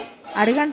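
A metal pot lid clanks and scrapes as it is lifted off a pot of spring onion and egg curry, with a short clatter at the end. It is close and moderately loud.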